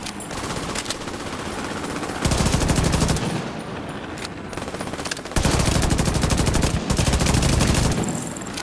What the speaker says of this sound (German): Geschütz, rechte Flanke.